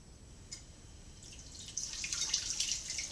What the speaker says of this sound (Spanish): Ahora lo que estamos haciendo es burbujas aquí en el vaso y también el agua sale desde la cucharita